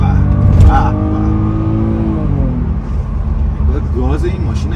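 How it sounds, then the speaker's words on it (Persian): BMW 630i coupe engine revving up loudly and close, its pitch rising and then falling away, with someone talking over it throughout. "چه گازی میخوره این موتور"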